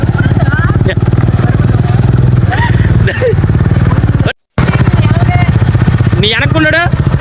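A motorcycle being ridden, engine droning loud and steady with a rapid low throb and rattling clatter, briefly cutting out; voices talk over it intermittently.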